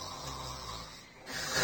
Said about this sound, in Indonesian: Chiba ngorok sangat keras